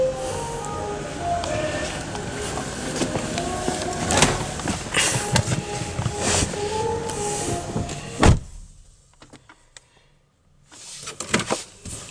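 The power passenger seat of a 2017 Mercedes-AMG C63 S moves with a whirring electric motor hum and mechanical clicks inside the cabin, then stops and leaves near silence broken by faint clicks.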